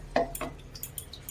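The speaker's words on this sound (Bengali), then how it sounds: "এবার একটা কড়াই বসিয়ে নিয়েছি" A wok is set on a stove, giving a few short metallic clinks and knocks spread over just over a second, close and moderately loud.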